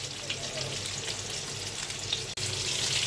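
Taira fish frying in a pan gives off a steady, close sizzle and crackle that holds evenly throughout, with a brief dropout near the end.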